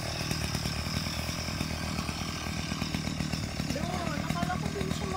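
A gasoline grass cutter clearing thick grass on a rice paddy dike in the Philippine countryside runs continuously with a loud, buzzing two-stroke whine close by, while people talk over it.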